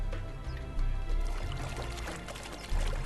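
Water pours steadily into a canteen in the video game Conan Exiles, a continuous splashing trickle over a low rumbling background, with the level surging slightly at moments.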